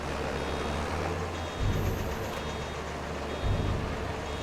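Reversing beeps from a farm vehicle in Farm Simulator 25 repeat steadily over a constant low engine drone, with a louder engine surge at two points.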